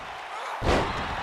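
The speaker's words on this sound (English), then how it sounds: "Good Russian leg sweep from Ruby Skylar." A Russian leg sweep takes a wrestler down hard onto the mat of a wrestling ring, producing one loud, close, booming slam that rings out briefly over steady crowd noise.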